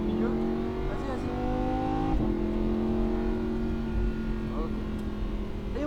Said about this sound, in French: Allez, on accélère, on va chercher du régime moteur.